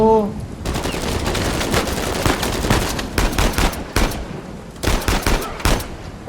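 Rapid gunfire in the video game Uncharted 4's multiplayer, loud and close, with dense sustained bursts that break into short choppy volleys of shots toward the end.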